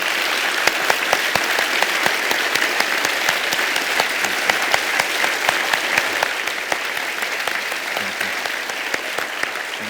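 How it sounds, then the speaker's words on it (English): Audience applause for Ai Weiwei at a conversation event: a large crowd clapping loudly and continuously, dense and even across the whole stretch. "Please join me in giving a huge round of applause to Ai Weiwei."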